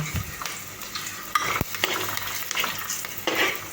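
Onions frying in a pan for khichdi, burnt and crackling, give a steady busy sizzle with scattered small pops and a few sharp clicks of stirring against the pan, close and fairly loud, with no talk.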